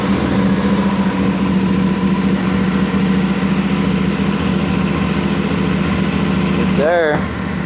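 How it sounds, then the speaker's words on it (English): A 450SS motorcycle engine with its stock exhaust idles close by in a loud, steady, rumbling putter that holds evenly for several seconds before a brief rising chirp and a sudden cutoff. "I'm gonna go ahead and start this up as it is with the stock exhaust on it"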